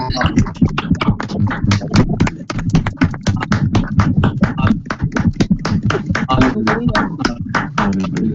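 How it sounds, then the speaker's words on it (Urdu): A church congregation at an evangelistic service claps loudly and continuously, dense rapid hand claps layered into a steady, close roar with no pauses. "اگر آپ خوش ہیں تو زوردار تالی اپنے لیے بجائیں."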